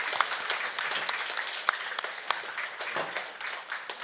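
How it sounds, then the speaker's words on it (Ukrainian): An audience at a Crimean Fig awards ceremony applauds to welcome performers onto the stage, with lively many-handed clapping and a few sharper individual claps standing out, continuous throughout and fairly close. "Можете оплесками так зустрічати."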